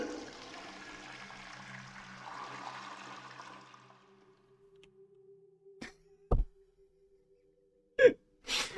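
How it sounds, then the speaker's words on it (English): Video game toilet flush in Lorelei and the Laser Eyes: a watery rushing swirl for about four seconds that fades out, followed by a faint hum and a few brief clicks and knocks. "it made the flush sound and then there wasn't a hand washing noise"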